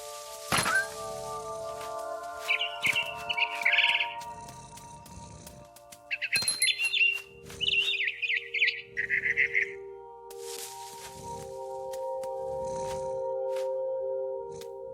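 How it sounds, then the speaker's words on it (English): A barn swallow chirping by its nest outside a window in the video game What Remains of Edith Finch, with bright high twittering bursts over steady tonal music and a few soft thumps. "Then I heard chirping outside my window. It was a barn swallow going back to her nest."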